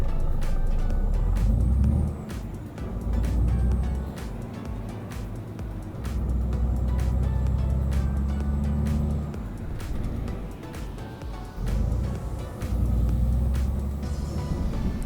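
A DAF XF E6 MX13 truck engine in Euro Truck Simulator 2, a deep loud diesel drone that rises and drops through gear changes, with clicks and air brake hisses over the steady rumble.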